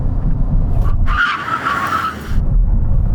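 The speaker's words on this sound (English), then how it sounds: "When we reach the line, full emergency stop" Car tyres skid hard through a full emergency stop from 70 mph during a hot hatch brake test, a loud drawn-out screech over engine and road roar that fades back to driving noise.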